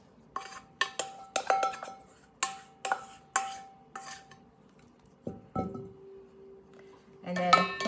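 A raw meatloaf mixture dumped from a bowl into a roughly 6 by 9 inch baking pan, with repeated clinks and scrapes of utensil on dishes, a soft thud, then a louder clatter of pans at the end.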